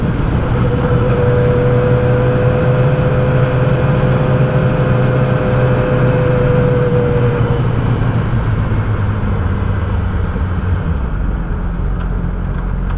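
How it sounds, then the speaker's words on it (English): A 2007 Yamaha R6 sport motorcycle with an M4 slip-on shorty exhaust holds a steady, loud engine drone with a sustained tonal whine, easing off and changing character near the end. "the M4 slip-on shorty exhaust, which has a good little tone to it"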